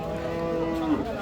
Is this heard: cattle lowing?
yes